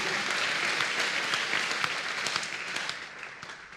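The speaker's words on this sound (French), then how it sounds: "If you believe your own pain will disappear today, clap for Jesus" A crowd claps and cheers for Jesus Christ at a religious healing gathering, with dense, continuous applause held at steady loudness for a few seconds and no clear talk over it.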